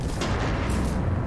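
Deep booming cannon fire in Mass Effect 3, a heavy rumbling blast that fills the short moment with low, sustained reverberation.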